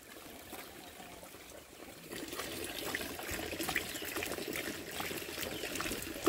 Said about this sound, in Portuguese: Veio beber água na torneira, ó.